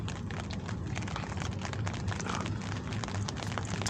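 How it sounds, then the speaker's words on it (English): Steady rain falls outside a restaurant, a dense, continuous patter of drops with no voices, holding an even level throughout. "But it's raining, so I figure they're not going to last too long in the rain."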